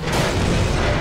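A missile explodes in a video game, a loud, close, heavy boom with a broad rumbling body that holds steady for about a second.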